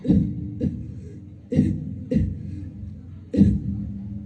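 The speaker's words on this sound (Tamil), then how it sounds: "ரெண்டு நாளா சரியான இருமல்" Five harsh coughs close up, spaced irregularly, each a sharp burst fading quickly into the next pause.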